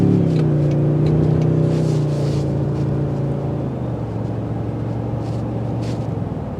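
A 2024 Toyota Sequoia Platinum SUV engine drones steadily and loudly with a low exhaust rumble, idling evenly before settling into a slightly lower tone.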